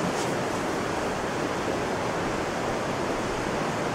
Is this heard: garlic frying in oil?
no